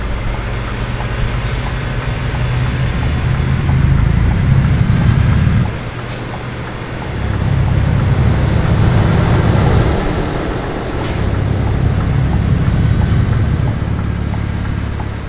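A Scania R730 truck hauling a big dozer in Euro Truck Simulator 2 labours uphill with a loud, steady engine drone that swells in repeated surges, with high whistling tones and occasional clicks over the top.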